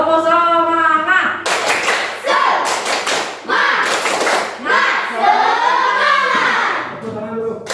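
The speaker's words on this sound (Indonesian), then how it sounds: "Ya, tepuk semangat. Tepuk semangat." Classroom children clap a rhythmic spirit clap in bursts of quick, loud claps mixed with thumps, with a teacher and children's voices talking and chanting around and between the bursts.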